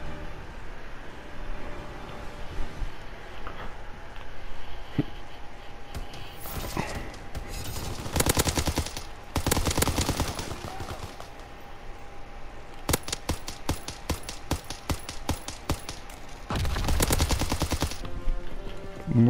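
Gunfire in a World War II video game: scattered single shots give way to long, loud bursts of automatic fire and rapid volleys over a low steady background hum.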